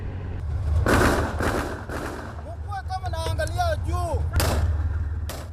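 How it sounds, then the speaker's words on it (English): Gunfire in combat between Al-Shabaab militants and African Union troops, a few heavy separate blasts spaced apart, loud and close, with raised voices calling out between them. "Militants fired on African Union forces using machine guns."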